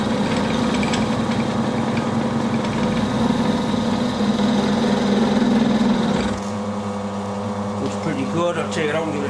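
A milling machine with a dividing head cuts metal with fluid coolant, giving a steady loud mechanical whir and grinding drone that drops to a quieter motor hum partway through, with a faint voice underneath.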